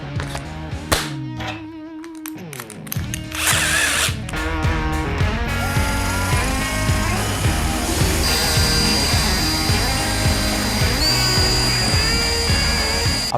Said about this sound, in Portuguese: Bora então fazer esses furos.